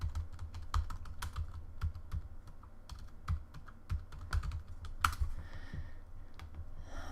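Keywords are typed on a computer keyboard in quick, irregular bursts of crisp key clicks, fairly quiet and close, with brief pauses between runs and no speech.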